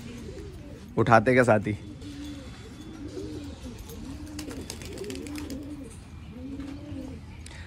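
Pigeons coo in repeated soft rounded phrases on a rooftop, with a brief loud fluttering burst early on and someone talking over the birds.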